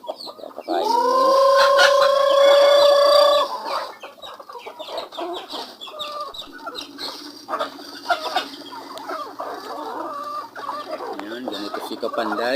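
Native chickens cluck and squawk close by at feeding time, with a loud rooster-like call early on, followed by busy overlapping clucking from a small flock.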